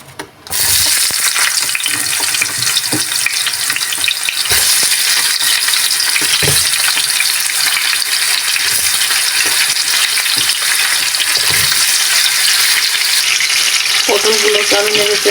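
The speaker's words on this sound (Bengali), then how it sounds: "এই তেলের মধ্যে এখন আমি পটলগুলো ভেজে নিব" Pointed gourd (potol) frying in hot oil, a loud steady sizzle with occasional scraping stirs, close and continuous.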